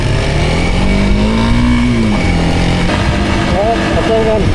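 A Honda XR150 dirt bike engine runs and revs outdoors, its rising and falling drone steady under loud ongoing talk.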